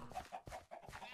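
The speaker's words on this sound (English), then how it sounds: "we've got the chickens here in their little micro block home" Chickens in Minecraft cluck in quick, faint, repeated bursts, kept in a tiny micro-block pen in a hardcore modded Agrarian Skies world.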